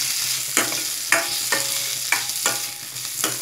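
Spoon stirring poha upma with chopped tomatoes in a hot pan, a steady sizzle punctuated by about six evenly spaced scraping strokes, close and moderately loud with no voices.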